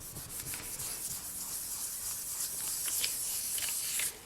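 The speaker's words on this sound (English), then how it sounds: "I'm just going to burnish that onto the tile because I want it to be stuck down" Polymer clay being burnished down onto a baking tile, a steady close rubbing and scraping with soft strokes throughout, no voices.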